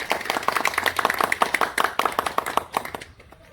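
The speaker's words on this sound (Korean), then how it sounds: "큰 박수로 모시겠습니다." An audience at a Buddhist youth association anniversary ceremony claps in dense, steady applause for a few seconds, then it quickly tapers off to near silence.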